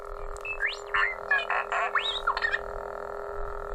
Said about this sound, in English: Come on now, it's R2.